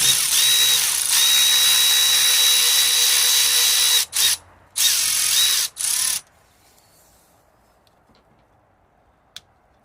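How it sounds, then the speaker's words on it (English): A 4mm hex tool driving out a bolt on a Vauxhall Corsa coolant flange, a loud close whirring, ratcheting run broken by two short gaps, then near silence with one faint tick. "Got a 5mm hex that we're going to use on this bolt."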